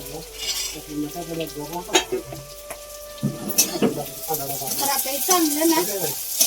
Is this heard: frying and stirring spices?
yes